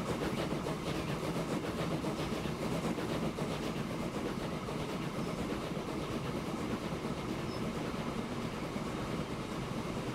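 A train rolls steadily on rails in the Transport Fever game, a continuous rumbling drone with rhythmic clickety-clack, heard alone without talk.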